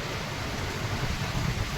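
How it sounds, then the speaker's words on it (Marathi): Heavy unseasonal rain falling in Bhiwandi, heard as a steady, dense broadband roar with no breaks, close and fairly loud throughout. "खूप मोठ्या प्रमाणात या ठिकाणी पाऊस सुरू झालाय"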